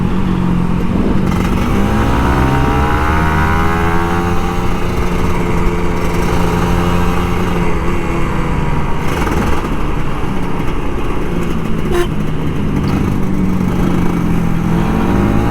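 An old Kawasaki Ninja RR 150 motorcycle engine drones loud and close throughout a ride, its pitch rising and falling as the throttle is worked.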